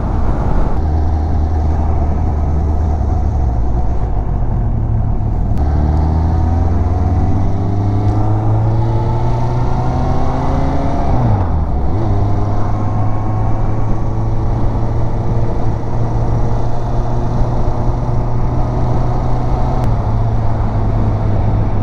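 A motorcycle rides along a road in Cholet, its engine a steady, close drone that rises through the gears in repeated climbing sweeps, dips, then settles into a constant cruising note, with no talking.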